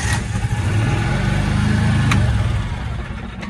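A choked small engine, just brought back to life with a jump starter after failing to start on a weak battery, runs steadily at a loud, close idle with dense low rumble throughout, a brief sharp click partway, and no talking.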